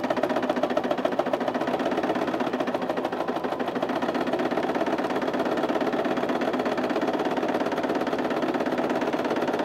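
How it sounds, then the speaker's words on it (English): A sewing machine stitching rows of shirring on a summer dress, a continuous fast mechanical whir with an even needle rhythm, close and steady, with no talk. "I just keep my presser foot aligned with the previous row of stitches"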